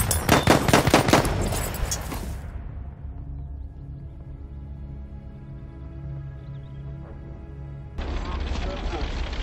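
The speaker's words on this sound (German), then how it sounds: "Maschinengewehr, eindeutig feindlich!" Bursts of rapid machine gun fire in the World War I shooter game Battlefield 1, loud and dense for about two seconds, then a low rumbling lull before more heavy battle noise returns.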